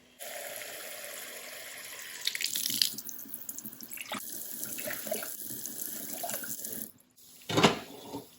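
Water pours from a tap into a pot in a steady stream for several seconds, then stops, followed by a brief splash and clatter.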